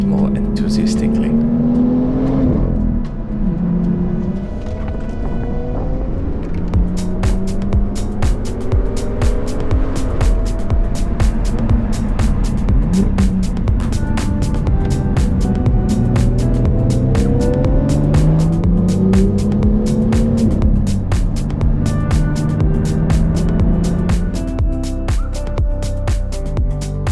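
A car driven enthusiastically on an open road in Norway revs and shifts repeatedly, its engine note rising and falling in waves beneath constant road noise, with a voice talking over it.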